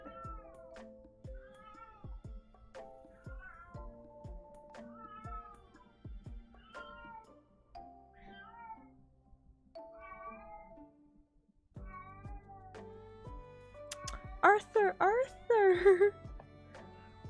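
A cat behind a closed door meows and cries repeatedly in long wailing calls. Someone talks quietly over the cries, and the meows grow louder and more insistent toward the end.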